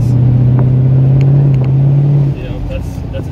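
1981 Aston Martin V8 Volante accelerating in first gear, a loud close engine drone with a steady low pitch that cuts back after a few seconds, alongside a speaking voice.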